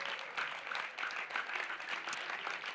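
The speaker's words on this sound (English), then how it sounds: "let's just give them a round of applause back there and over here" A festival crowd at a music program in Cabella, Italy keeps up a steady, dense wash of applause throughout, with no single claps standing out.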